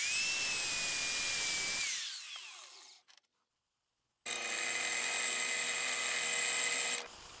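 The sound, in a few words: Kmart brand grinder cutting metal rod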